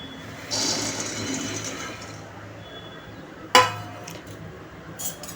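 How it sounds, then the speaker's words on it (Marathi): Peanuts dry-roast in an iron kadhai over medium heat: soft rustling and scraping as they are stirred, then a sharp metallic clank and a few lighter clinks. "आता मी मध्यम आचेवर शेंगदाणे भाजून घेत आहे"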